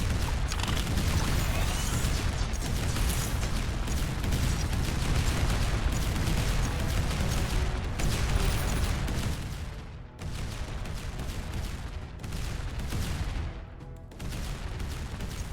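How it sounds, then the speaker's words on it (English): Cannon towers in the tower-defense game Emberward fire in rapid, overlapping volleys, a dense barrage of booming shots that continues almost without pause, with brief dips in intensity. "What a difference cannon towers make."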